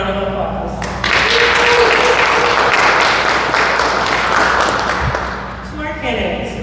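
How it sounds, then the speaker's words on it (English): A crowd at a Boys & Girls Clubs youth competition breaks into loud applause for the candidates, swelling after a second and fading near the end, with a voice speaking before and after it. "Let's give our candidates a round of applause."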